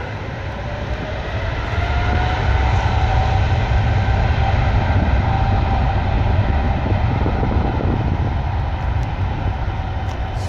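A Boeing 777 with Rolls-Royce Trent 800 engines takes off at Schiphol, giving a steady, broad jet roar that builds and then holds loud for about ten seconds, with a faint whine above the rumble and no voices.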